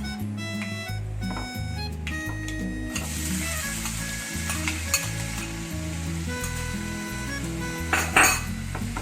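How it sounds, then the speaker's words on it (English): Chopped onion hits hot oil and spices in a kadhai, giving a steady, close sizzle that swells after the first few seconds, with background music playing throughout. "Now we can add our chopped onion."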